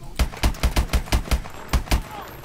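Gunfire in the video game Call of Duty Advanced Warfare: a quick rhythmic burst of about eight close, punchy shots, a short pause, then two more, with no talking over it.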